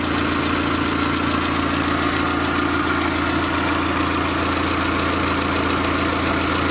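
A carbureted vehicle engine, converted from fuel injection with the computerized ignition removed, idles steadily and loudly up close with an even low rumble and constant vibration throughout.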